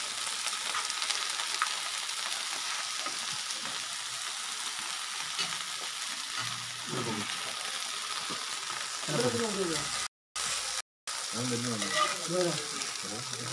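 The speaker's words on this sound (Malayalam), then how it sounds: "ബീഫാണ് ഈ വെന്തുകൊണ്ടിരിക്കുന്നത് നമ്മുടെ കിഴിപ്പൊറോട്ടയ്ക്കുള്ള ബീഫാണ്" Beef for kizhi porotta cooking in a pan, a continuous loud sizzle with occasional stirring sounds, heard up close, with faint voices partway through.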